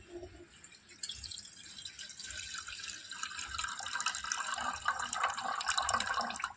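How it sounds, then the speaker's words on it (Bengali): Water drains from washed flattened rice (chira) in a kitchen, a continuous close splashing trickle that builds slightly louder over several seconds. "এবার জলটা ঝরিয়ে নেব।"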